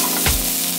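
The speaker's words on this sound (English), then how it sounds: "I'm gonna saute a little onion first" Chopped onion hits a hot pan for sautéing, giving a brief sharp sizzle burst that settles into a soft frying hiss within a second.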